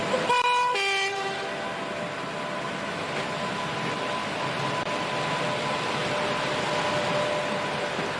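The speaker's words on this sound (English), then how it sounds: "One engine ready to go back to the station and join up with the carriages again." Model electric train engine: a couple of short tonal horn toots at the start, then a steady mechanical running rumble that continues evenly throughout.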